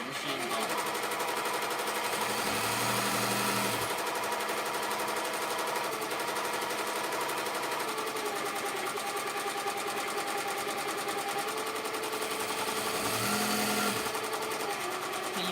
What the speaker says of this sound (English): And then the machines are on too.